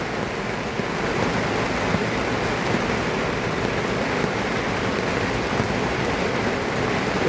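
Loud tropical rain pours steadily onto a sailboat's cockpit, a dense, even hiss of drops drumming on the deck and fittings, close and continuous without pause.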